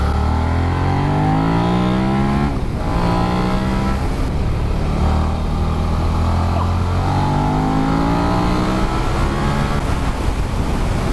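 A 2018 Suzuki SV650X motorcycle's engine revs loud and close while riding, pitch climbing through the gears and dropping at each shift, with heavy wind rush throughout.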